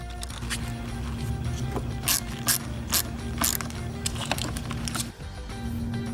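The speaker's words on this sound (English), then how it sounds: "We're going to use the 10mm again to remove this nut on the positive terminal" A 10mm ratchet loosens a nut on the positive battery terminal of a Jeep Wrangler JL, giving short bursts of rapid clicking over a low idle hum, close and fairly quiet, with no talk.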